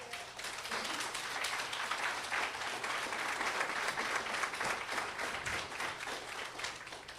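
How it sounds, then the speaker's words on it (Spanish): A church congregation gives a long burst of dense, steady applause during a Sunday service, clapping at an even, sustained level throughout with no break. "Den un aplauso al Señor."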